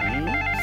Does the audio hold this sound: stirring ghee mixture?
no